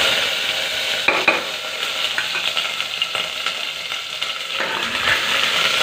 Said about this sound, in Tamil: எண்ணெய் காயவும் நம்ம வெங்காயத்தை போட்டுக்கலாம்.